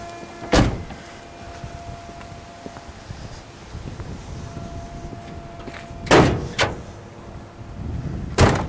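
The heavy hood of a 1971 Buick Riviera GS with a 455 engine is worked open, sharp metallic latch clunks striking near the start and again in a quick cluster later, separated by quiet handling noise.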